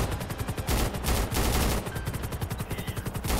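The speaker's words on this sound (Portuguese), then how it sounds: "tá dando tiro" Rapid automatic gunfire in the video game GTA 5 during a police roleplay operation, with dense continuous bursts of shots filling the whole stretch and no voices heard.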